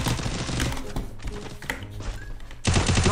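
Rapid gunfire crackles in short clustered bursts during an online shooter match, sharp and fairly close, with a heavier burst near the end.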